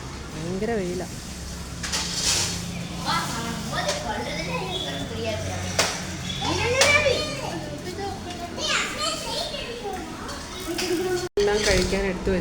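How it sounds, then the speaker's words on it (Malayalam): Children play outdoors on a sunny Sunday, their shrieks, shouts and chatter rising and falling at a moderate distance, with several young voices overlapping throughout and a brief dropout near the end. "സൺഡേ ആയതുകൊണ്ട് പിള്ളേരൊക്കെ വെളിയിൽ ഭയങ്കര കളിയാണ്"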